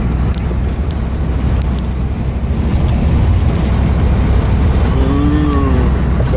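Steady engine and road rumble from inside a car on a long highway drive, a loud constant low drone with tire noise and no talking throughout.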